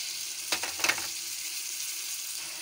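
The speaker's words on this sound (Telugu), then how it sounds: "ఉల్లిపాయ ముక్కలు బాగా వేగిపోయినాయి. ఇప్పుడు మిక్సీ చేసి పెట్టుకున్న మసాలా," Onions frying in a pan with ground masala, giving a steady soft sizzle with a few brief stirring scrapes early on, close and alone with no voices.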